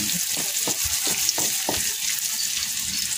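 Onion and pork frying in a pan for Filipino pork with green peas, a steady close sizzle with several soft stirring scrapes early on and no voices.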